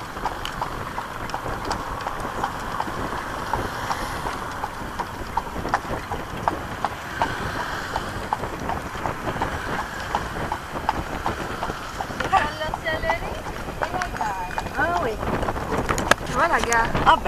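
A horse's hooves clip-clop in a steady, even rhythm on a walk near a train station, close and moderately loud for the whole stretch, with faint voices in the background.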